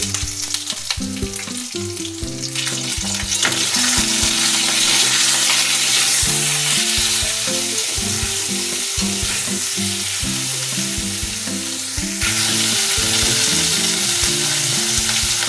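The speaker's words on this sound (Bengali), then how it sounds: "উচ্ছে কিছুটা ভাজা হয়ে গেলে নুন দিয়ে দিচ্ছি।" Partly fried bitter gourd strips sizzle in a pan after salt is added, a continuous close frying hiss with stirring scrapes and tonal background music running the whole time.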